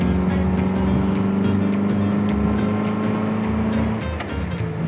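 A 1940s-era MG TC sports car's exhaust drones loudly and steadily, with a rough, throaty tone and a slight drop in pitch near the end.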